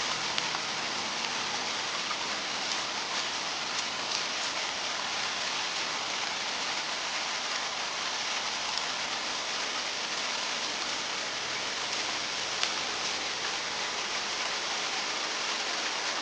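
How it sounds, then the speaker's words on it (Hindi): Heavy rain pours down steadily in a cartoon scene, a dense, even hiss with no breaks, loud and unaccompanied by other sounds. "अगले दिन तेज बारिश हो रही थी।"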